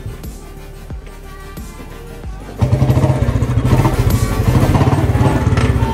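After sitting unused for a long while, a Royal Enfield Bullet motorcycle engine runs up close with an uneven, stumbling thump, then catches and settles into a louder, steady rapid beat partway through.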